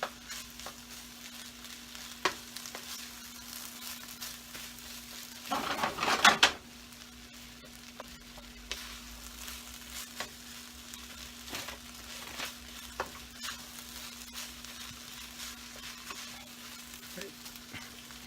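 Pork fried rice stir-fried in a pan with soy sauce poured in, giving a steady low sizzle with a louder burst of frying near the middle and intermittent scraping stirs throughout.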